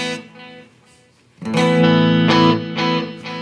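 A distorted electric guitar runs through a delay pedal in a pedal-order setup, playing a sustained chord that swells up loudly after a quiet start, with repeating echoes smearing the notes together.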